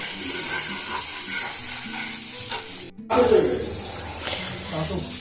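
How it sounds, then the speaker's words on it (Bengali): Spice paste of ground ginger, cumin, green chilli and turmeric frying in a pan over a medium flame for a fish curry, a steady close sizzle with stirring that grows louder after a brief cut midway. "এই মশলাটাকে মিডিয়াম ফ্লেমে এক মিনিট মতো ভেজে নেবে"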